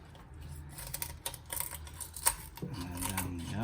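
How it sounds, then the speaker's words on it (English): Kitchen poultry shears snip along either side of a raw chicken's spine, giving a series of sharp clicks and crunches at an uneven pace, close up, with a brief metallic clatter near the end. "I'm gonna cut on either edge of the spine, just at the edge of the vertebrae"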